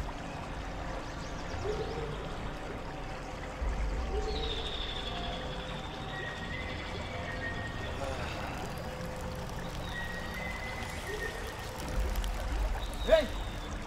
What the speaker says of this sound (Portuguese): vou tirar a água do joelho ali